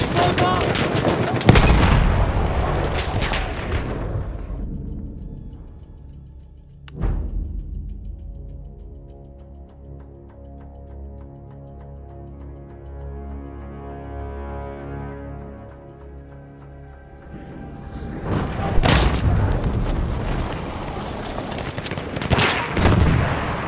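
Battlefield 1 combat sounds: loud bursts of gunfire and a heavy bomb blast open the stretch, then a long ringing, muffled aftermath before rapid gunfire and booms return near the end.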